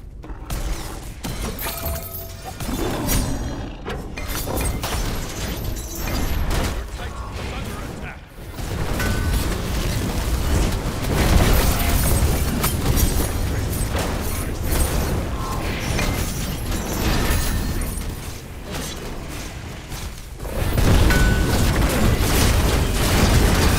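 Dense crashing and mechanical rumbling fill a video game as Metal Phoenix is destroyed, with repeated booming explosions and grinding, shattering debris. A voice speaks intermittently underneath.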